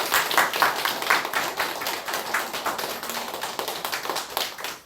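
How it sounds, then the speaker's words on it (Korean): A church congregation claps together in a steady burst of applause, many hands overlapping in a dense, sustained patter that holds at an even level throughout with no talking. "큰 박수 부탁드리겠습니다."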